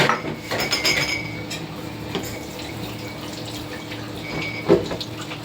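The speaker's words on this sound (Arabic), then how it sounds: "تعالوا بقى معايا هغسل المواعين زي ما انتم شايفين" Clinking dishes and cutlery with a steady rush of running tap water, occasional knocks and drips, close by with no talking.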